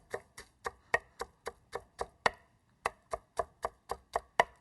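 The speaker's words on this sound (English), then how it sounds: "We're going to just rough chop this." Regular, rapid knife chops through fresh spinach on a cutting board, about sixteen crisp close strikes in an even rhythm with one short pause midway.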